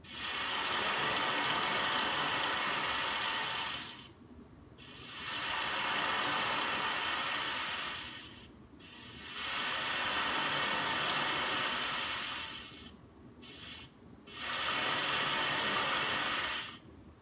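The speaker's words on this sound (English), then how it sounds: "So let me put the rain back." A rain recording plays through a passive dual high-pass/low-pass filter circuit, a dense hiss that repeatedly swells and drops away to near silence as the filter sweeps, with brief gaps between sweeps.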